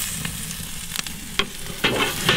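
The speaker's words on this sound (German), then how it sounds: "Boah, guck mal, wie der blubbert und brutzelt." Pepper-crusted smoked beef tafelspitz sizzles on a grill, a steady close crackle with bursts of popping and spitting fat and no talk.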